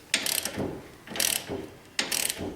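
A hand ratchet tightens a wheel stud into a car hub, its pawl clicking in three quick, close strokes with short pauses between, crisp and alone.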